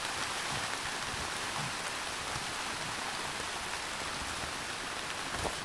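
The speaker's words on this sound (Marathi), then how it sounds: "मोठा पाऊस आहे." Heavy rain pours down steadily, a dense, loud hiss of drops hitting surfaces with no letup and no voices.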